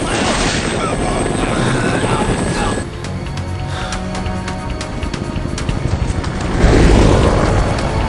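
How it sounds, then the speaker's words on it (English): Rescue helicopter arriving on a rooftop in the video game Dead Rising, a loud, steady rotor chop that dips briefly midway and then swells louder near the end. "Now all we gotta do is wait for our chopper to come, and it looks like he's right on schedule."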